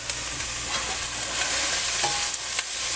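Onions sweating with salt in a soup pot give a steady, broad sizzle with faint stirring scrapes, close and continuous at moderate level, with no talking.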